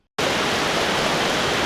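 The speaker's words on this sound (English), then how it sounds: "Really cool waterfall sounds." Waterfall ambience recording: a dense, constant roar of falling water that starts abruptly from silence and holds steady and loud throughout.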